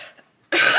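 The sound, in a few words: cough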